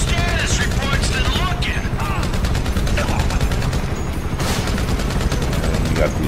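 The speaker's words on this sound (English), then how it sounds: "Trevor's gonna be shooting these people off" Rapid bursts of Grand Theft Auto V gunfire crackle almost continuously, loud and dense, with a voice talking over the shooting.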